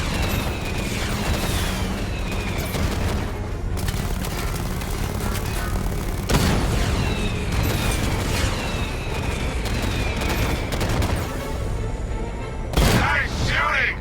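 Rapid gunfire and booming blasts from Batman Arkham Knight play loud and near in dense bursts, with mechanical whirring layered beneath.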